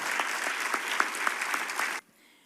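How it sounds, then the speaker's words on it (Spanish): An audience at an evening church gathering breaks into loud, dense applause to welcome a couple on stage, steady for two seconds before cutting off abruptly into quiet. "Les pido un fuerte aplauso para recibirlos a Claudia y Marcelo Delgado."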